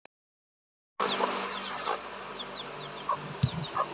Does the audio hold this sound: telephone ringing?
no